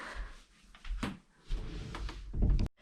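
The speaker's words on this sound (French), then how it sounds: "Ben, pourquoi tu fermes la porte?" Indoors, a door is swung and pushed shut, with shuffling and handling noises building to a solid close near the end before things go quiet.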